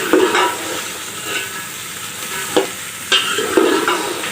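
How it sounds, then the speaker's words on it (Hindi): Whole coriander seeds, chillies and black peppercorns dry roast in a pan, a loud, steady sizzling hiss broken by a few sharp scrapes and taps of stirring. "इतना भूनेंगे साबुत धनिया को, मिर्चों को, काली मिर्चों को, कि वो जैसे खुशबू आने लगे"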